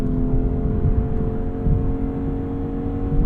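A Lexus IS500 sports car engine in sport mode holds a deep, steady, close rumble with a faint rise of revs, loud and continuous with no voices over it.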